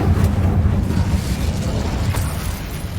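Incendio fire spell cast in Hogwarts Legacy, a dense sustained roaring burst of flame-like rumble that stays loud and steady across the whole moment, with no talking over it.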